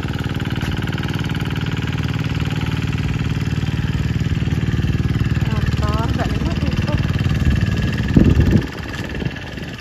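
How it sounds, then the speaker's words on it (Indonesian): A tractor engine works in a rice field with a steady, droning mechanical hum and a brief louder surge near the end, while voices talk over it. "Sing kana jek di traktor."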